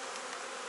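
Honeybees emerging from a hive frame in late season, a close, steady buzzing drone that runs continuously without pause.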